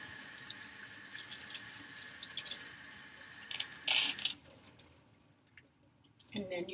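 Tap water runs steadily into a sink while hands are rinsed, a continuous hiss with a brief louder splash before the flow cuts off and a few faint clicks follow.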